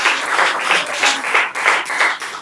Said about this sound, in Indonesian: Oke, kasih tepuk tangan untuk kelompoknya ini.